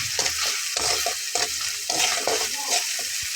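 Turmeric is stirred into spices frying in a pan, with hot oil sizzling under a close, rhythmic scraping of the spoon in repeated strokes.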